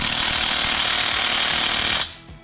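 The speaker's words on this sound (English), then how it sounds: "We're going to move over and grab my impact, pull these bolts out real quick." A cordless impact wrench rattles steadily on the bolts of a Bob Wood 22XE cam installation, a loud continuous hammering burst for about two seconds before it cuts off abruptly.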